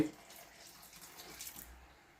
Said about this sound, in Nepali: अब यो पानी यसमा हालियो